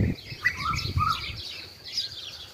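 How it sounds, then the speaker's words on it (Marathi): Two Asian koels squabbling in spring produce short, fairly close bursts of chirping and calling for a couple of seconds over quiet outdoor background. "आणि हे दोन्ही कोकिळांचं भांडण चालू आहे"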